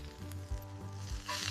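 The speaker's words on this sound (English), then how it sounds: "Ribeye goes into the screaming hot cast iron." A ribeye steak sizzles in a screaming hot cast iron pan, a steady close hiss of frying fat with a slightly brighter crackle toward the end, no voices.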